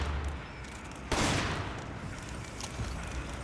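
Gunfire in the video game Resident Evil 5: a sharp, loud burst of shots lands about a third of the way in, then fades into a lingering, noisy wash of game ambience with fainter follow-up cracks.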